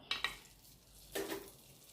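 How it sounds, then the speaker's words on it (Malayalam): Pani puri dropped into hot palm oil: two quick sharp clinks, then a brief burst of sizzling and bubbling as the puris hit the oil, close and fairly quiet with no talk. "എണ്ണ ചൂടായിട്ടുണ്ട് ഇനി നമുക്ക് അതിലേക്ക് പാനിപൂരി ഇടാം"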